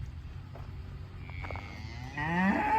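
A cow moos loudly and close by, one drawn-out bellow rising toward the end, over low farmyard rumble from a herd that was making a racket and a muddy cow nearby.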